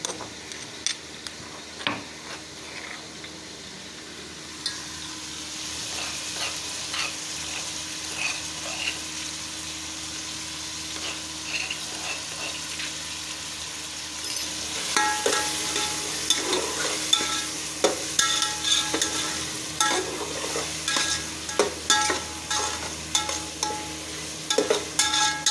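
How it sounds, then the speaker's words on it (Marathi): Tomato, onion, chili and crushed ginger-garlic fry with spices in a pan for pav bhaji. A steady sizzle runs throughout, with frequent clinks and scrapes of a spoon stirring the mix, and the stirring grows busier in the second half. "टोमॅटो कांदा मिरची भाजायला लागली आहे."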